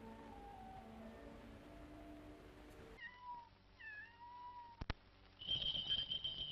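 A cat meows in a Japanese animated film, with several short, clear, rising-and-falling mews midway through, quiet and close, following soft background music and ending under louder ambient sound.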